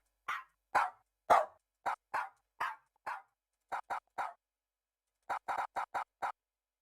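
Dogs bark in a series of sharp, separate barks, a few spaced early on and then a quicker cluster near the end, close and loud with silence between them.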